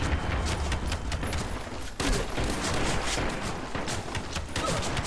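Shotgun blasts and other gunfire in the online shooter Metro Conflict come as a dense, loud run of rapid shots, closely spaced and continuous, with no talk.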